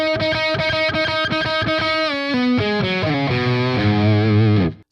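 Distorted electric guitar plays a solo passage: rapid repeated double-picked notes, then string bends gliding down, loud and close, ending abruptly with no voices.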